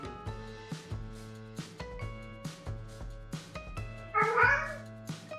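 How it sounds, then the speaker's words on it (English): A cat meows loudly and close in one drawn-out call near the end, over background music with a steady beat. "When cats stop meowing and start communicating like humans"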